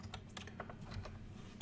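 Rapid keystrokes clatter on a computer keyboard as someone types a command, a quick close run of light clicks over soft background hum.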